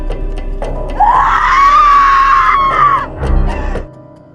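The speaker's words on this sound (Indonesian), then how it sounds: "menjerit sejadi-jadinya" A woman screams hysterically in a loud, sustained, wavering cry lasting about two seconds, framed by shorter sharp vocal bursts and a final strained outburst.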